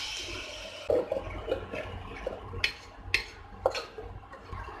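Water poured from a mixer jar into a pot of green peas and potato kurma, heard as a few short splashing, gurgling pours with light clinks against the vessel, fairly close and with no talk over it.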